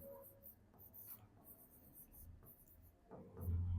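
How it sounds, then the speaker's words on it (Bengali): Pen writing a name on paper, a run of quiet scratchy strokes in short bursts with brief pauses, close and faint, ending with a louder low bump. "ধরো আমার নামটা লিখলাম"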